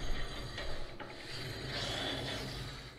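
A trailer wheel spins freely on its bearing, giving a soft continuous rubbing, whirring rasp with faint ticks, close and quiet, without any talking.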